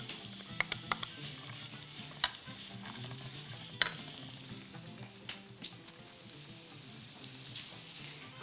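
Onion frying in hot oil makes a continuous close sizzle and crackle, with a few sharp pops and the clink of a utensil stirring near the start.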